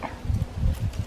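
Wind gusts through the leaves of a yellow plum tree in an orchard, heard as soft, irregular low rustling bursts and buffeting that pulse several times in quick succession.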